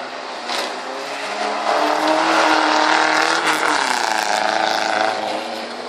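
A folkrace car roars around a dirt race track at Torpa, Borensberg, its engine revving hard and rising in a sustained loud howl with some tire noise, heard from the trackside.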